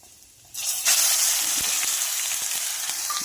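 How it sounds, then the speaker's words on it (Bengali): Cumin seeds hit hot oil in a pan for a fish kalia, bursting into a loud, sudden, steady sizzle with a faint crackle that carries on undiminished after a brief quiet start. "এবারে ওই তেলের মধ্যেই দিব আমি একটু জিরা"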